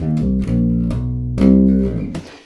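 A bass guitar plays a short melodic run of a few plucked notes, sustained and close, ending in a quick fading slide.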